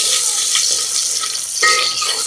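Finely chopped onion tipped into hot oil with garlic for a village-style chicken curry, a bright close sizzle that swells sharply partway through and keeps hissing.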